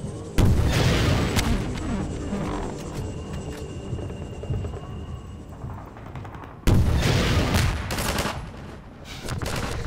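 Strider gunfire in the video game Half-Life 2, heavy rapid bursts of shots and booming impacts filling the scene, with a sharp fresh volley partway through and no talk.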